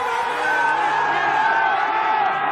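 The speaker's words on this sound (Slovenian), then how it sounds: "Glasni so navijači v cilju, razumljivo." A loud finish-area crowd of ski fans at a women's giant slalom race in Ofterschwang, cheering and whooping in a steady roar that holds for the whole stretch.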